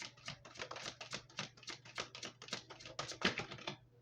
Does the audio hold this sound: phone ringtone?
no